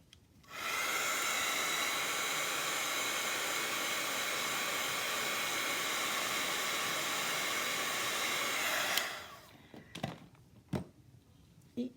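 A hair dryer blows steadily at close range for about eight seconds while drying a rice paper card, then cuts off, followed by a few light knocks and handling sounds.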